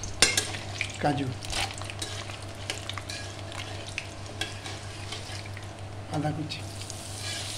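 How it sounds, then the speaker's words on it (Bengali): Chana dal, mustard seeds and urad dal fry in hot oil in a pan for milk upma, a steady crackling sizzle with occasional stirring clinks, while a voice speaks briefly over it. "একটু চানা ডাল, সরষা আর হলো উড়দ ডাল, বিউলি ডাল। এটা একটু হালকা ভেজে নেব"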